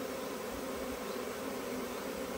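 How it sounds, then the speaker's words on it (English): Honey bee swarm streaming into a hive, a dense continuous buzzing hum held at even loudness throughout, close and unbroken with no voices. "just a trickle of bees in there."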